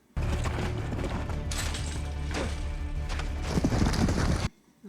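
Horse hooves clip-clop in a scene from The Last of Us, a dense run of hoof strikes over a loud rumbling mix that continues steadily before cutting off abruptly near the end.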